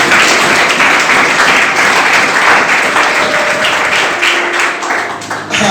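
A church congregation applauding loudly and continuously throughout a French-language worship service, a dense wash of clapping with faint voices beneath it.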